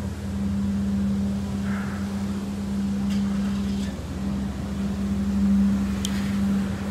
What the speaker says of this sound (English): excuse the background noise, they're cleaning the streets.